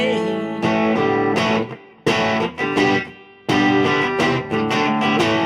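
Loud, heavily distorted electric guitar chords strummed in bursts, with brief pauses and sharp cut-offs between sections.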